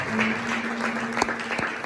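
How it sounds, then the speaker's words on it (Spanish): A church congregation at a Spanish-language service claps for Jesus, steady massed applause throughout with a few sharper individual claps standing out near the end. "Denle palmas a Jesús."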